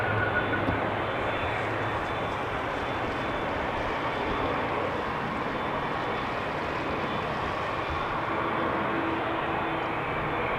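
An airliner lands on runway 27 at Amsterdam Schiphol Airport, a broad steady jet roar heard from a distance that holds at an even level throughout.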